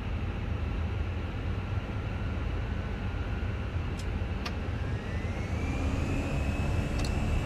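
Airbus A320 jet engines spool up for takeoff in Microsoft Flight Simulator 2020, as a steady, loud, dense roar with a faint tone rising toward the end and a couple of brief clicks, no talking.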